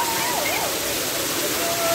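Waterfall at Courtallam, cold water pouring down in a loud, dense, continuous roar that fills the whole clip, with a faint whistle or voice drifting through the rush.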